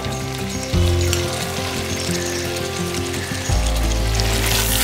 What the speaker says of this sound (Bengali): এবার কিন্তু এর মধ্যে আমি চিকেন পিসেসগুলো অ্যাড করে দিলাম